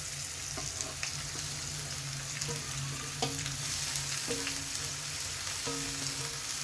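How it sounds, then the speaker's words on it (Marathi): Radish greens fry in a pan with asafoetida tempering, a continuous close sizzle with occasional soft stirring scrapes and taps, no voices. "आपण आता ही सगळी भाजी यात घालून घेऊया, पालेभाजी।"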